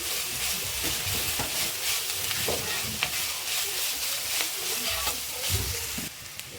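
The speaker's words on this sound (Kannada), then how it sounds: "ಈಗ ಸ್ವಲ್ಪ ಕರಿಬೇವು ಹಾಕ್ಕೊಳ್ಳೋಣ." Curry leaves crackle and sizzle in hot oil for a brinjal gravy, a loud, dense, steady frying hiss with occasional spatula stirs and pops, no voices present.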